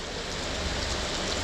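Heavy tropical rain pours down steadily in a torrential end-of-rainy-season downpour, a dense continuous hiss of water with no pauses or voices.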